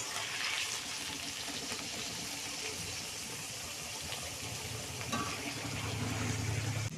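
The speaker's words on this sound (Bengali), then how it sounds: "এই পেঁয়াজগুলোকে হালকা একটু ভেজে নেব" Sliced onions and slit green chillies fry gently in a pan, a faint, even sizzle with light bubbling that holds steady throughout, with a low hum creeping in toward the end.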